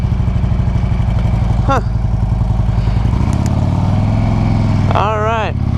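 Harley-Davidson twin cam motorcycle engine idling up close, a steady loud low rumble with a slight shift in pitch midway, while someone talks briefly over it.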